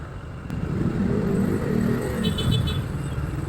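A manual motorcycle ridden through traffic, its low engine rumble steady and close, blended with the wash of surrounding road noise and passing vehicles throughout.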